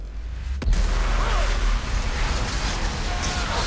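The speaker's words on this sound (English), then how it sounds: "That was a powerful explosion." Explosion in the Mass Effect 3 video game: a sharp blast hits after a short quiet lead-in and gives way to a sustained roaring, rumbling wash of debris and noise, loud and close with no talking.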